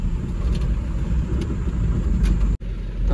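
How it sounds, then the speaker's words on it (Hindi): Vehicles pass along a city road at night in Jagdalpur, a steady, fairly loud engine and tyre rumble that holds throughout and cuts out abruptly for a moment near the end. "देखो 3 गाड़ी जा रही है।"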